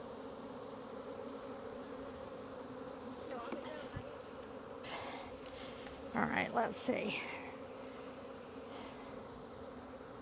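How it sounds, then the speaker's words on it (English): A dense, steady buzz of many bees hums close by throughout, while a person speaks briefly partway through. "There's so many bees in there, I can feel them."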